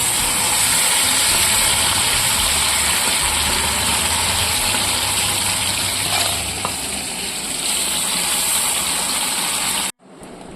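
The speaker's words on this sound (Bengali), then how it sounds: "হলুদ লবণ মাখানো চিংড়ি মাছগুলো ওই একই তেলে ভেজে নিচ্ছি।" Turmeric- and salt-coated prawns fry in reused oil in a pan, producing a loud, continuous broadband sizzle that holds steady for about ten seconds before cutting off abruptly.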